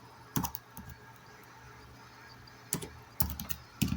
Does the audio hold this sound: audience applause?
no